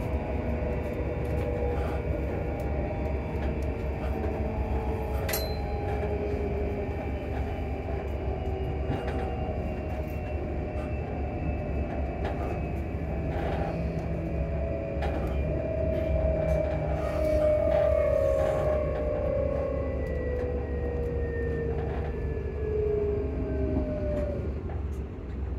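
A metro train runs between stations, a steady rumbling roll of wheels on rails with a rising and falling motor whine, continuous and fairly close for the whole stretch, with no talk.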